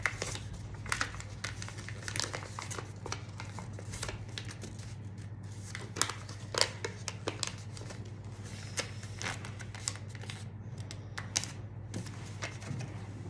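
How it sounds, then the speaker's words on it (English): Paper being folded into airplane wings, with close, quiet crinkles and sharp creasing snaps scattered irregularly over a low steady hum. "better fold the wings good and slowly for making it perfect."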